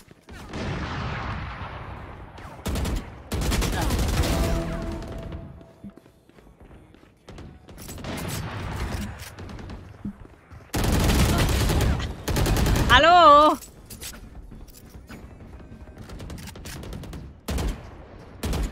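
Gunfire from the video game Valorant comes in sharp bursts and single shots separated by quieter gaps, with one louder volley near the end and a brief warbling effect.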